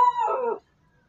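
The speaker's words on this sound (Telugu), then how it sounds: "మా కుక్క పిల్ల గైస్, ఓకే ఏమనుకోద్దు" A puppy indoors lets out a single short howl, a clear tonal wail lasting about half a second before silence.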